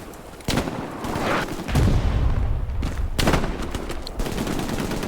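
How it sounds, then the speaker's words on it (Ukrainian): Gunfire in the video game Hell Let Loose as a tank is hit: loud bursts of shots and booms over several seconds, with dense rumbling battle noise throughout. "Попали по танку, танк згорів."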